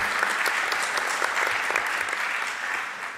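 A large crowd applauds steadily, a dense wash of clapping that fades slightly toward the end.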